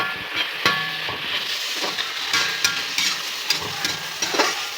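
Tomato, curry leaves and coriander leaves sautéing for a chicken curry, a steady sizzle in hot oil broken by repeated scraping and clattering stirs, close and alone without talk.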